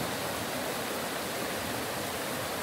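A natural river in Bali rushes steadily past, with a small waterfall adding a continuous broadband wash of flowing water, close and even throughout, with no voices.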